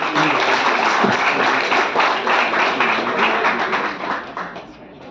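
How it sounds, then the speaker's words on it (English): Audience applause at a squash tournament prize distribution, scattered clapping mixed with crowd noise and some indistinct voices, fading toward the end. "Big round of applause for Sindhu."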